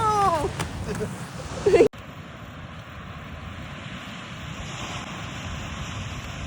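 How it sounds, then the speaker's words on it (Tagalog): Big ocean waves surge and roar in a broad steady wash, close and loud, with wind buffeting the microphone and a brief sharp clatter near the start. "Laki ng alon."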